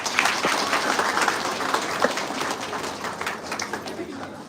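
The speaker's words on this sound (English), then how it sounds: "Can all of you give a huge round of applause" A crowd at an institute of biotechnology applauds a new student batch, a fairly dense run of clapping at moderate distance with some voices mixed in, gradually thinning toward the end.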